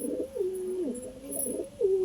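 Madrasi pigeons of the kalchira and laldum breeds coo nearby in a few drawn-out, wavering coos that dip and rise, one after another.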